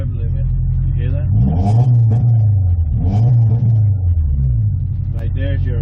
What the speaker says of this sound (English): Right there's your rev limit.